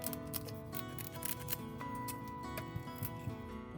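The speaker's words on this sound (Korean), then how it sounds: "지느러미는 간편하게 가위로 제거를 해주세요." Kitchen scissors snip the fins off a Spanish mackerel, giving several close crisp cuts with soft rubbing and handling noises between them and no speech.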